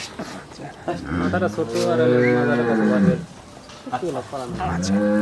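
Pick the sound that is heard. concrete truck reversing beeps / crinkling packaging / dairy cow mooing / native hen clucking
dairy cow mooing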